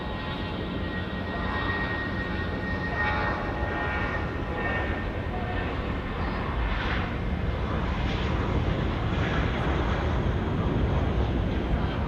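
An Air New Zealand jet on flight NZ 623 to Queenstown departs Auckland Airport, giving a loud, continuous broadband engine roar that holds steady throughout, heard from a distance with no voices over it.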